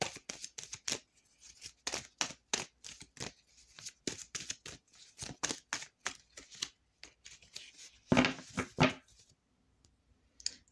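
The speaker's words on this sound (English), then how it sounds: "All right, so I paused the shuffle there." Tarot cards shuffled by hand in quick, rhythmic riffling bursts, steady and close, with a louder flurry near the end and no talking.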